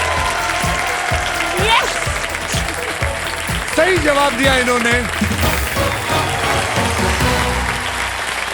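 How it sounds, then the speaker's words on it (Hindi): Studio audience applause on a Hindi TV quiz show after a correct answer, steady clapping running throughout under the host's speech. "जोरदार तालियां"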